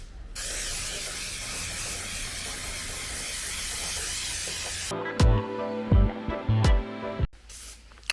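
Spray adhesive hisses steadily from an aerosol can in a long continuous burst, followed by a few short clicks and thumps nearby.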